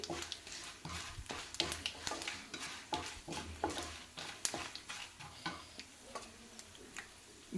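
Dry red chillies, about four of them, fry in oil in a pan while making curry leaf rice, giving a steady close sizzle broken by frequent sharp crackles and pops, with no talking.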